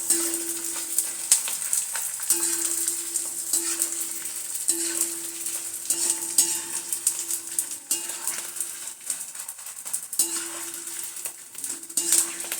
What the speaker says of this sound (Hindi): जो गोंद तलते हैं ना, वो तेज आंच पे ही तलते हैं, मंदी आंच पे गोंद नहीं तला जाता है